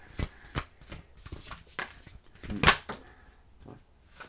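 Tarot cards being shuffled and drawn, a run of crisp papery riffles and flicks at close range with quiet gaps between them, no talk over the cards.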